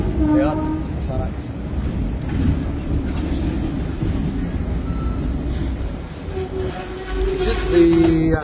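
Rumbling rattle of a Hong Kong tram in motion through Central, low steady clatter with occasional squeals and bell-like tones, while someone talks throughout.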